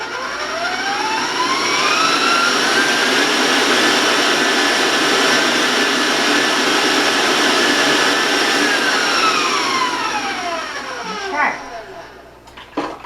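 An electric mixer whirs through chocolate popover batter in a bowl, a steady loud motor whine that rises in pitch, holds and then winds down, ending with a couple of clinks against the bowl.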